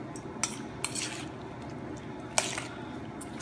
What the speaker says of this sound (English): add this to our dressing. Mix it up. And make sure you get the dressing all over.